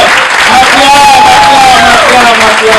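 A church congregation applauding and acclaiming the Lord during worship, with dense, loud clapping and cheering from a close crowd and a voice chanting over it.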